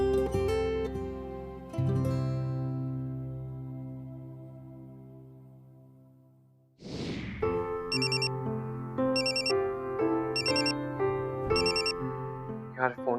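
A phone rings with a melodic electronic ringtone, a sustained chiming tune that sounds loud and close, breaks off, then resumes with repeated bright beeping bursts.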